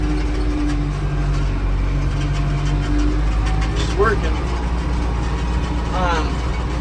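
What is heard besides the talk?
tractor engine running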